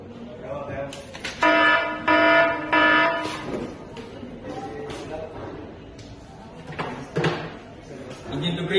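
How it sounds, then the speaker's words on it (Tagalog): A ship's engine-room high-temperature alarm for cylinder 4 sounds in loud, repeated buzzing tonal blasts, with clattering engine-room noise and muffled voices in between. "High temperature alarm on cylinder 4."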